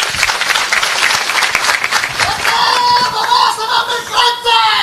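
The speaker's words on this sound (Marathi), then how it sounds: "त्या बाबासाहेबांसाठी एकदा टाळ्या वाजवा." Crowd applause for Babasaheb at a political rally, steady dense clapping throughout with cheering whistles and voices rising over it in the second half.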